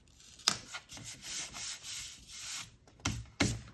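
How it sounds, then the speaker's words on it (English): A tool rubs a planner embellishment flat with a few short scraping strokes against paper, close and quiet, with sharper taps where the tool meets the page. "Burnish that down."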